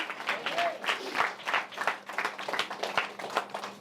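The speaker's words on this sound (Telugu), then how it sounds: "You big clap to the lord Jesus." A church congregation claps together for the Lord Jesus during a Sunday sermon, a fast rhythmic burst of many hands, moderately loud and continuous, with faint voices underneath.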